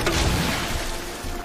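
A stun grenade goes off against the boss in Resident Evil 2, a single deep booming burst with a low rumble that quickly fades.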